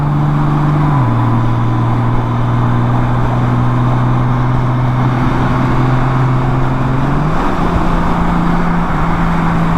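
A motorcycle engine in sport mode hums steadily up close, its pitch stepping between gears under constant wind and road noise, with no voices.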